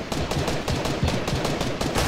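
Loud, continuous weapon fire in the Fortnite battle royale, a rapid stream of close shots cracking steadily without pause and with no voices over it.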